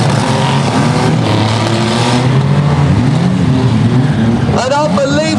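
Demolition derby banger car at Arena Essex restarting and revving up, a loud rough engine roar over crowd noise, with a commentator talking throughout.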